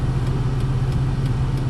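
Car engine idling at around 850 rpm, a steady low hum with a faint regular pulse, close and even throughout, no voices.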